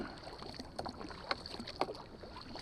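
Wind outdoors at Murtle Lake in Wells Gray Park, British Columbia, in August: a faint, steady breezy rush with soft lapping and knocking, like water against a boat, and no talk.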